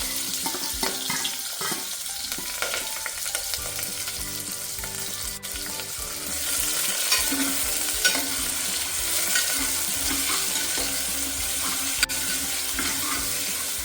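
Onions and curry leaves frying in hot oil for tempering, a steady close sizzling and crackling, continuous, with occasional stirring scrapes and no voices.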